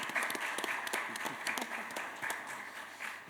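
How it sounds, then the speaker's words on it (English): Scattered, fairly quiet applause rises from an audience at a conference plenary session, individual claps standing out irregularly against a soft background wash. "So please one applause to him."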